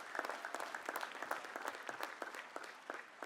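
Bates College Class of 2023 applauding at commencement: a dense, steady round of clapping from a large crowd outdoors, heard from a little distance.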